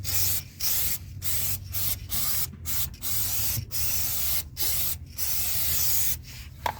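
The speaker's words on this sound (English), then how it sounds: "we're gonna clean the braking discs with a cleaning fluid" Brake cleaning fluid sprayed onto the rear brake discs of a 2008 Volkswagen Passat, close hissing bursts from an aerosol can in a quick run of short sprays with brief pauses between them.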